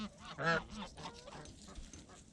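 Geese at a farm in midwinter, feeding on leftover vegetables after the chickens have eaten, give one loud nasal honk close by, then softer rustling and pecking noises.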